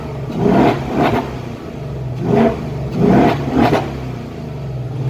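A seventh-generation Ford Mustang GT Performance with a 5.0 V8 revs in a series of sharp, loud bursts, four main swells rising and falling over a low idling rumble, close and alone.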